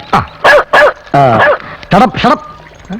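A dog barks close and loud in a comedy film scene, about seven sharp barks in an uneven rhythm, one stretched into a whining yelp, with short gaps between them.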